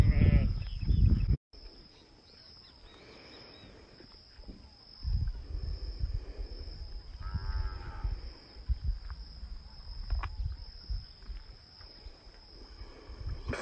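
A young billy goat and the nannies penned with it on a farm bleat now and then against outdoor ambience, with insects chirring. There is a brief loud burst at the very start, then quieter bleats and rustling over the remainder.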